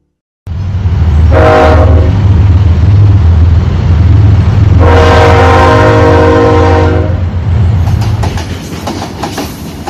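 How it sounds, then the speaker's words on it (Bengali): A cartoon train pulls into a station with a steady loud rumble throughout, two long horn blasts, the second lasting about two seconds, and a rhythmic clickety-clack of wheels as it slows near the end. "ট্রেনটি এলো।"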